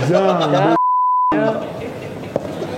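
A phone gives one steady, clear electronic beep, lasting about half a second, while a call is being placed. Talking comes just before it and resumes right after.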